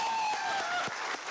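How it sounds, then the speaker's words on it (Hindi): Applause from attendees at a government job appointment letter distribution ceremony in Jharkhand, fairly soft and scattered clapping heard beneath a faint tonal hum from the hall's sound system. "जोरदार तालियां होनी चाहिए"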